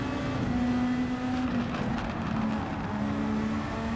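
Race car engine in Gran Turismo 7, a Super Formula car held in second gear, droning steadily and loud throughout with a sustained tone that shifts pitch slightly mid-run, no talk over it.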